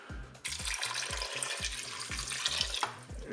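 Water pours into a Cookeo multicooker pot in a steady close splashing rush lasting a few seconds before cutting off, over a low rhythmic thumping backing beat.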